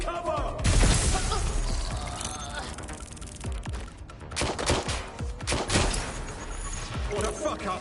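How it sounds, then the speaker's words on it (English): Gunfire in the video game Watch Dogs: Legion, loud rapid shots and bursts mixed with crashing impacts, with voices shouting under the shooting. "Shots fired! Shots fired!"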